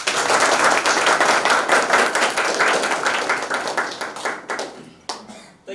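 An audience at a Marathi business presentation and product demonstration claps together in close, steady applause that slowly fades and thins out toward the end.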